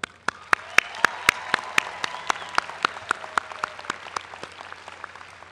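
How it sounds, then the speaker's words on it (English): Sparse, slowly building applause from family and friends in the stands at a university graduation ceremony, with a few loud individual claps standing out against a soft crowd patter and a low hum. "They deserve a round of applause too."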